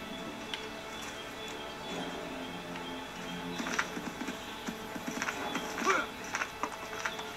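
Rhythmic hoofbeats from a galloping horse in Assassin's Creed 3 clop at night under game music, growing a bit louder toward the end.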